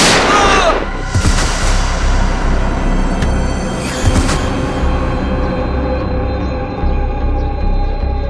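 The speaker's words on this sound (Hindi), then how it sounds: "गान नीचे पक्या, फायर करूंगा।" Gunfire in a Hindi TV crime drama from the C.I.D. series: several sharp bangs ring out over a dense, loud soundtrack with booming low rumble.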